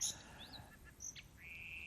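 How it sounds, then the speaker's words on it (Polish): Faint birds chirp outdoors in open countryside, with several short tweets and a longer whistled note in a quiet setting. "O, teraz słyszymy ptaszki."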